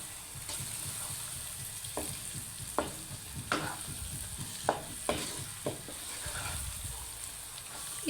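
A spoon stirs a potato, egg and onion curry in a pan over a steady background sizzle, with a handful of sharp scraping knocks against the pan spaced irregularly throughout.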